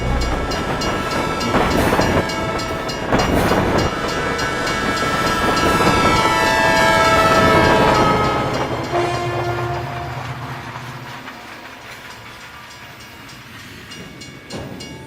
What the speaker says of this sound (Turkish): Lumiere kardeşlerin 15 kare hızında çektiği 55 saniyelik trenin gara girişi tarihin ilk filmi olarak kabul görüyor